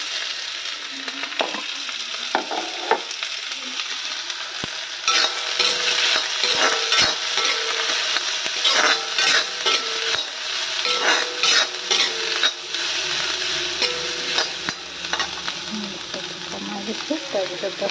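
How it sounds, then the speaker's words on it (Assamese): Broiler chicken and green banana are stir-fried together in a pan, with a steady sizzle broken by repeated scraping and clattering strokes as the pieces are stirred. "মাংসখিনিও দি দিম, একেলগে ভাজিম এইখিনি।"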